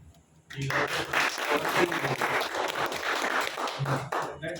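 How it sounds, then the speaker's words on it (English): After a brief quiet moment, a crowd at a company award ceremony bursts into sustained applause, many hands clapping together steadily for several seconds. "So a huge round of applause for Mr. Devesh Raj."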